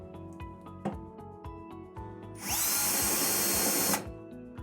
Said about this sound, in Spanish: ahí atornillar haciendo coincidir los orificios con un tornillo